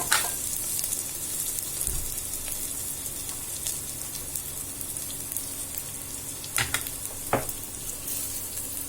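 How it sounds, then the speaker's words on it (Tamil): Onions and tomatoes sautéing in a pan for a sweet corn vegetable pulao, a soft steady sizzle with occasional sharp clicks and taps from stirring, no talk. "வெங்காயம் வதங்கினதுக்கப்புறம் தக்காளி கொஞ்சம் வதங்க."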